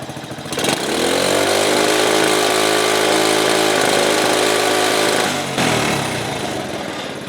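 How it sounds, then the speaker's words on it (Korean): A small engine roars steadily at half throttle for several seconds, rough and loud, backfiring from an overly rich fuel mixture, then drops back toward idle. "배기음에서 뒤에서 후적이 일어납니다."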